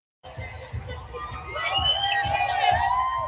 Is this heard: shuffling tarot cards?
no